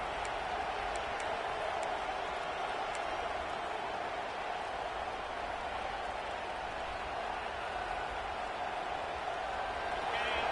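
Football stadium crowd cheering during an Auburn game as the defense is backed up at the goal line: a broad, steady roar of distant voices filling the whole stretch without pause.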